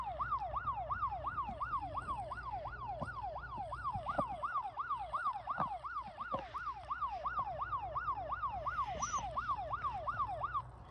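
A police car siren from a video game played on a Fire tablet wails in a fast, steady up-and-down cycle throughout, thin and fairly quiet over a low engine rumble.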